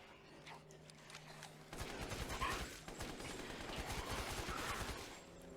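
Gunfire in Resident Evil Village: rapid, dense bursts of game gunshots, faint at first and then louder and continuous, with no voices.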